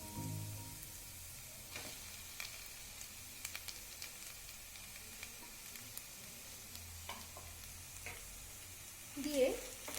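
Mashed potato being stirred and fried with browned masala in a pan for Bengali egg chops, a soft steady sizzle with scattered scraping stir strokes, fairly quiet and without talk.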